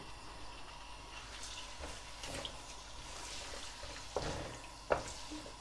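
Chicken frying in hot cooking oil over a high flame sizzles as a steady, fairly quiet hiss, with a couple of sharper crackles and pops near the end.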